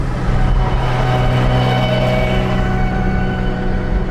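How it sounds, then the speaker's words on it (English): Bugatti hypercar passing at the Long Beach Grand Prix, a loud, steady low engine drone with a sustained mid-range hum, heard up close in traffic with no talking. "We got the Bugatti passing us right now."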